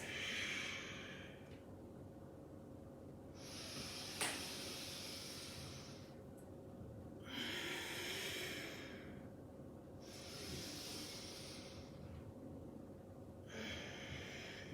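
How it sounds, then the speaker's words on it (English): Slow, deep breathing during an exercise routine, with long airy inhales and exhales alternating every few seconds over a steady low hum in the room. "then inhale and exhale, inhale and exhale forwards"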